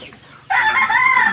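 Rooster crowing near a chicken coop being rearranged to fit more birds, a loud, close, drawn-out crow that bursts in suddenly after a quieter start with soft background clucking.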